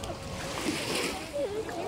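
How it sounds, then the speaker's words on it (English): Water sloshing and splashing around a small kayak on choppy water, with boats passing nearby, a continuous low wash of lapping waves beneath occasional voices. "Look at the waves."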